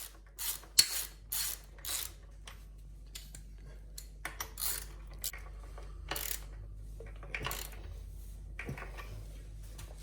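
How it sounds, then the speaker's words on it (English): An 18mm socket on a ratchet turns bolts during a Kaabo Mantis Pro electric scooter tyre change, giving off a run of short, sharp metallic clicks and clatters in uneven bursts, close and fairly quiet, with no talking. "It's probably best if you've got a ratchet to use that."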